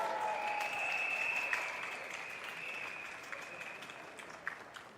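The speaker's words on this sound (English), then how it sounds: "Give them a round of applause." An outdoor political rally crowd at an election campaign event applauds for police officers, a steady wash of clapping that holds throughout and gradually thins toward the end, with a faint voice briefly audible in the background.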